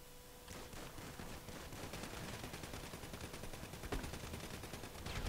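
A Combat MG machine gun in GTA 5 fires long, rapid automatic bursts, a dense rattling stream of shots with a few sharper cracks, close and sustained throughout.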